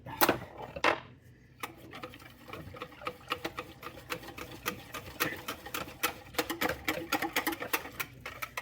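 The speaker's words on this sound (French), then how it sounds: "On fouette notre lait." Milk is whisked for a bubble tea with jelly and coffee, the whisk clicking rapidly and rhythmically against the container in a fast, steady series of sharp taps at close range.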